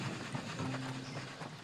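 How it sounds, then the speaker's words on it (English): A train rolls past in the video game Oddsparks, a steady low rumble with faint rail clatter holding at an even level throughout, with no talking. "Train sounds?"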